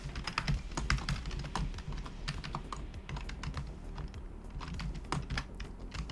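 Fast, close typing on a computer keyboard, a dense irregular clatter of keystrokes that runs throughout with brief pauses, heard alone without talk.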